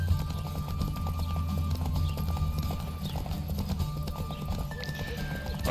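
Horse galloping in Witcher 3: Hearts of Stone, rapid rhythmic hoofbeats with a low rumble throughout, a snort or whinny mixed in, close and steady with game ambience beneath.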